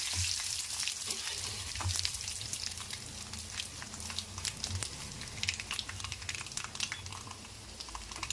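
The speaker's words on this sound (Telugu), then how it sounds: "కరివేపాకు మంచిగా కొంచెం క్రిస్పీగా ఫ్రై కావాలండి" Garlic and curry leaves fry in hot oil for a coconut chutney, crackling and spitting in a dense, steady sizzle with frequent sharp pops, close and fairly quiet.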